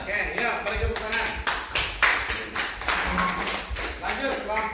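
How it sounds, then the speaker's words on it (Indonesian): A small group claps in a classroom-style gathering after students list egg-laying animals, the scattered claps irregular and fairly close, with voices murmuring underneath. "Oke, ya beri tepuk tangan."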